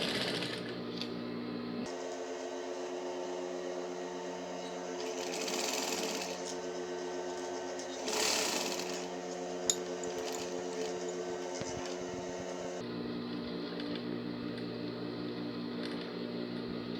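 A sewing machine stitches fabric along the lining of a women's jumper, its motor whirring steadily and continuously throughout, with small shifts in speed and tone as the seam runs on.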